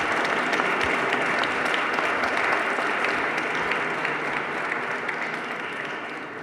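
An audience at a book fair presentation applauds warmly and steadily for several seconds, the dense clapping slowly fading toward the end.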